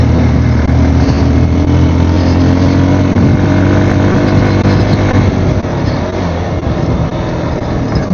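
A 220 motorcycle engine roars loudly and continuously at close range on a rough road in Dolpa, with a dense droning rumble that eases slightly toward the end.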